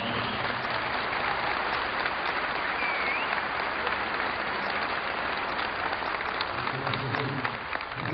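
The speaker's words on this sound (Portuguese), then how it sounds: "Nós queríamos homenagear o companheiro Expedito também com uma salva de palmas." Sustained applause from a gathering honoring a union leader at a Brazilian rural workers' event, a steady dense wash of clapping that holds at an even level throughout with no talk over it.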